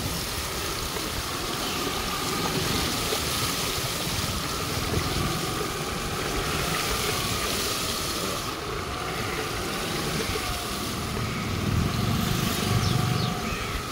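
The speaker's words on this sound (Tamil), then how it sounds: "மழை தண்ணி வந்து வழிஞ்சு ஓடுது" Rainwater runs steadily through residential streets in Jaffna during a storm, a continuous broadband wash with a low rumble beneath, constant and moderately loud for the whole stretch.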